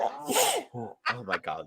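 A sharp sneeze bursts out, followed right after by a short exclaimed phrase from a nearby voice.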